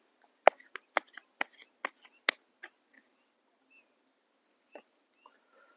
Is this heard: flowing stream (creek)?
no